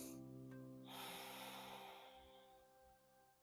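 Slow, deep breath drawn in and released through the nose during a yoga warrior one pose, a single soft snort-like inhale fading into a quiet exhale, close and alone with no talking.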